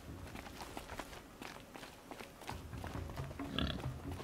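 A pig or boar in Horizon Zero Dawn trots nearby, with soft repeated footfalls and a faint grunting snort near the end.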